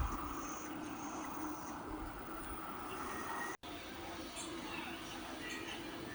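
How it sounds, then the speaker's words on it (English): A model railway turntable runs with a steady, low mechanical whirr and rumble inside a busy room in Wrocław, with faint voices in the background and a brief drop-out partway through. "This is the turntable working."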